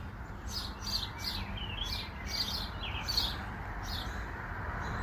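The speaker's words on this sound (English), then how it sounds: "Lots of birds." Birds chirping outdoors as wind picks up before a storm, a string of bright repeated tweets at moderate distance over a steady low wind rumble, with no talking.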